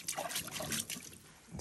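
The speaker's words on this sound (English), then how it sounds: "Yeah, the vessel is taking on some water." Water trickling and dribbling into a small fishing boat out on a lake during a pike fishing trip, a soft continuous splashing at close range with no voices.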